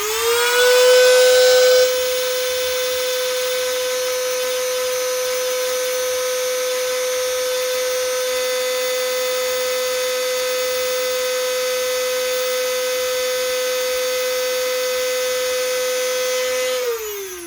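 A Benz Werkz BZ 8890 die grinder spins up and holds its top speed of around 31,000 RPM, a steady high-pitched electric whine running alone and close for the whole stretch before winding down at the end.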